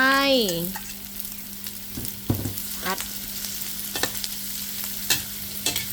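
Bamboo shoots and pork belly stir-fried in a pan, with a steady close sizzle broken by intermittent scraping stirs of the spatula and a brief tonal sweep at the start.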